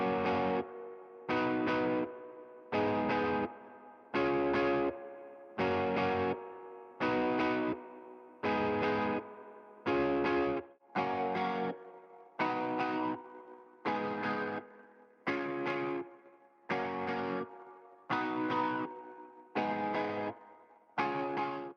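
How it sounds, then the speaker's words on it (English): An electric guitar processed in Logic Pro on iPad with compression and an ensemble plugin, strummed chords hitting in a steady rhythm of about fifteen short bursts with brief gaps, moderately loud and clean, with no talking. "the guitar is now a bit smoother thanks to the compression, and it also feels a bit bigger and wider now because of the ensemble plugin"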